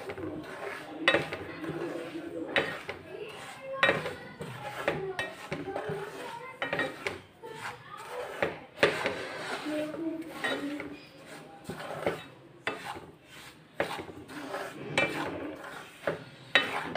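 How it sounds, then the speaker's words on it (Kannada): Semolina roasting in ghee in a pan for sweet saffron rava halwa, heard as busy scraping and clinking of a spoon against the pan, with irregular stirring strokes close up and no speech. "ಸೊ ತುಪ್ಪದಲ್ಲಿ ನಾವು ಇವಾಗ 1 ಕಪ್ ಅಷ್ಟು ರವೆ ತೊಗೊಂಡಿದ್ದೀನಲ್ವ, ಸ್ವಲ್ಪ ಅದು ಫ್ರೈ ಮಾಡ್ಕೊಳ್ಳೋಣ"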